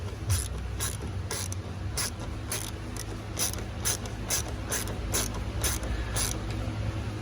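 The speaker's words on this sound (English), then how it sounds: "So now I'm gonna tighten the nut one here," A ratchet tightens a nut on the idle control valve of a Mercedes R107, giving a close, rapid series of regular metallic clicks over a steady low hum.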